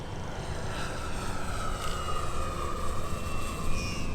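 A balsa Sebart Marchetti radio-controlled plane makes a low pass overhead, its engine a loud, sustained whine that swells slightly and shifts pitch as it sweeps by, with wind rumble underneath.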